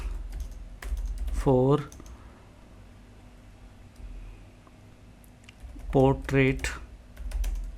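Quick runs of computer keyboard typing as a question is entered into ChatGPT, crisp clicks in two short bursts separated by a pause, with someone speaking briefly over the keystrokes.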